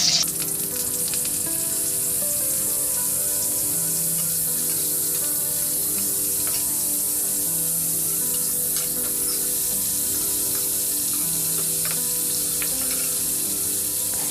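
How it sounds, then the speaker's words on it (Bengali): Cauliflower frying in hot white oil in a kadai, a dense, continuous sizzle heard up close throughout, steady and without talk. "তেলটা গরম হয়ে গেলে ফুলকপিগুলো একটু লাল লাল করে আমি ভেজে নেব।"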